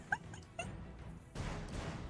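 Dog whimpering in a video game during a thieves' camp fight: a few short high yips and whines early on, followed by a louder burst of rough crashing noise in the second half.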